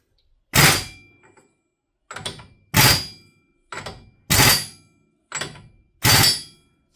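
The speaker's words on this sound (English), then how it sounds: "we're going to just give it a little tap here with the air gun just to get it to the next hole" A pneumatic air impact gun gives short bursts on the axle nut of a CFMOTO ZFORCE 950 HO EX UTV during a wheel bearing replacement. There are about seven loud, close rattling bursts, each under half a second, with brief gaps between them and no talk.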